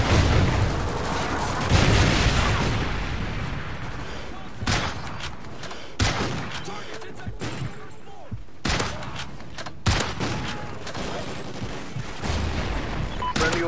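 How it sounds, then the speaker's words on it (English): Trinity rocket strike explosions in Call of Duty Ghosts, a series of heavy booms and bursts of gunfire recurring every few seconds, loud and close, layered over continuous battle noise. "Friendly Trinity rocket inbound."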